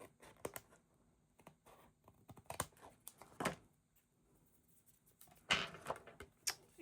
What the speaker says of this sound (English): I'm just going to take my scissors, and I do have a little trimming to do right here.